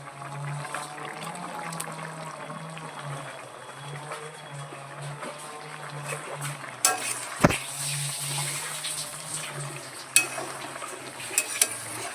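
Shrimp cook in a pan of water on the stove, giving a soft steady simmer and bubbling with a low hum underneath, plus a few sharp clinks and stirring knocks later on.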